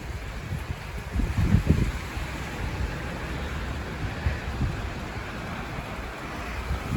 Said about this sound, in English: Well, I did say it was going to start pouring from the heavens.